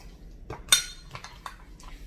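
A utensil stirs a dried thyme, garlic and mustard mixture in a bowl, giving a few sparse clinks and scrapes, one louder tap among them, close and quiet with no talking.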